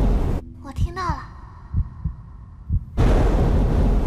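Amplified heartbeat used as a dramatic effect in a police drama: a few deep, muffled thumps fall in loose pairs beneath a thin, sustained whooshing tone, all set apart from the surrounding background noise.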